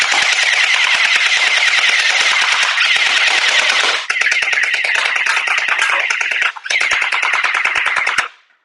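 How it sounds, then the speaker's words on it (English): An Oskeray Mini M416 gel ball blaster fires in rapid full-auto bursts, a loud, fast mechanical rattle of shots broken by two brief pauses and ending abruptly. "Shooting at a nice rate of speed, so that's cool."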